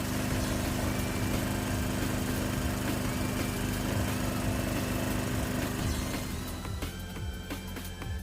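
A lawn mower engine runs steadily while it warms up before an oil change, a close, loud buzzing drone that holds even and then eases slightly toward the end, with no talk.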